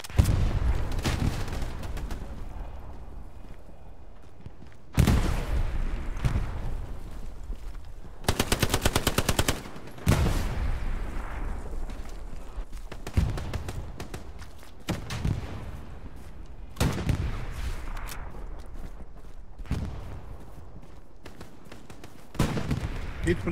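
Heavy machine-gun and rifle fire in the WWII shooter Hell Let Loose, with repeated loud bursts and sharp volleys crashing in over several seconds, some near and some farther off, as a player's position comes under attack.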